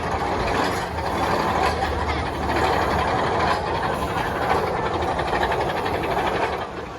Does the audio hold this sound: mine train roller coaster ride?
yes